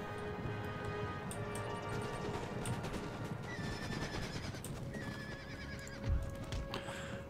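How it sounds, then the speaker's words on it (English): Massed cavalry in the Empire: Total War video game running across a battlefield, steady clip-clop of hooves and horse whinnies over a dense battle din, sustained and moderately loud with no talk. "First unit of horse charging in."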